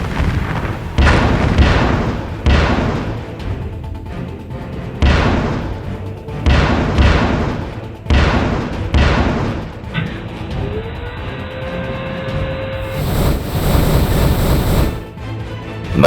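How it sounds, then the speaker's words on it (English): Heavy artillery booms from wall batteries in a sci-fi strategy video game, a rhythmic series of loud blasts with rumbling tails, then a rising whine and a sharp high energy burst near the end. "The wall batteries have engaged."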